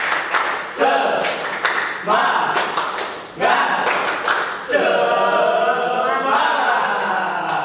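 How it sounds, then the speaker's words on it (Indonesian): A classroom group doing tepuk semangat, a rhythmic spirit-clap routine, with bursts of clapping in patterned beats mixed with voices chanting along, loud and close. "Tepuk semangat."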